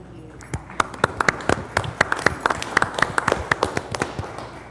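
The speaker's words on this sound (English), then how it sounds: "So, an applause for them." A small group claps for county employees at a commissioners court meeting: a sparse run of distinct, separate claps over several seconds, moderately close in a meeting room.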